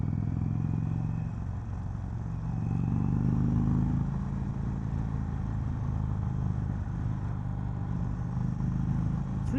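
An Indian Springfield Dark Horse motorcycle cruising in third gear around 3,000 RPM, a steady low engine drone with some wind rumble, fairly constant and close throughout.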